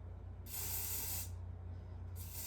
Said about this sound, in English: Grab your spray again.